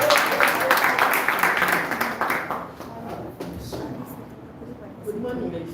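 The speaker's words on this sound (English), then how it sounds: "Let's give her a big round of applause." Applause from an audience at a master class welcoming a presenter, brisk clapping that fades after a few seconds into murmuring and then a speaking voice.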